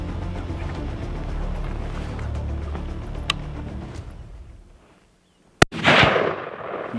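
A single long-range rifle shot at a Coues deer on a hunt in Mexico, one sharp loud crack out of near-quiet countryside, followed by a brief rolling echo that fades.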